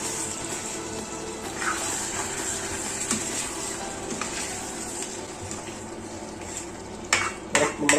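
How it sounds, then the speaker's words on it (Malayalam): Pork roast being stirred in a pot, a continuous thick sizzle with scraping spoon movements, then a few louder metallic clanks against the pot near the end. "ഇടയ്ക്ക് നമ്മുടെ പോർക്കൊന്ന് തുറന്നു നോക്കാം ഇടയ്ക്കിടയ്ക്കൊന്ന് ഇളക്കി കൊണ്ടുവരണം"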